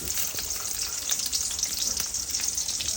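Chopped onion sizzles in hot oil in a pan for bhuna khichuri, a continuous bright close frying hiss with small crackling pops and no talking.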